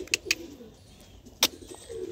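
Market pigeons held in hand give soft coos and a few sharp flutters or wing clicks, heard close but faint against a quiet room.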